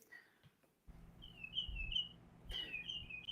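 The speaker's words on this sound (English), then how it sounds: "And I love that bird. I'm telling you, it's a pleasant tone." A bird sings outdoors in two short bursts of bright chirping and twittering notes, fairly near, over a low background rumble.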